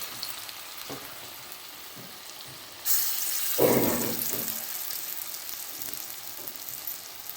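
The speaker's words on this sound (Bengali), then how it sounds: "বড়াগুলো আমার ভাজা হয়ে গেছে, এই লাল লাল করে আমি ভেজে নিয়েছি" Lentil fritters (bora) frying in a pan of oil: a low steady background hiss for the first few seconds, then a louder, fuller sizzle bursts in and continues, with a brief stronger crackle partway through.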